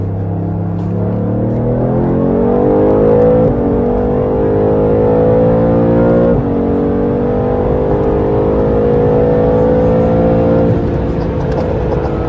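A BMW M8 fitted with a performance chip accelerates hard from 60 to 130 mph on an empty road in Mexico, its engine note rising steadily through the gears with brief shift breaks, loud and close throughout.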